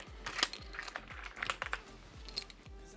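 PBT keycaps are pressed onto a Womier S-K71 mechanical keyboard, making a close run of irregular plastic clicks and taps under a steady low hum.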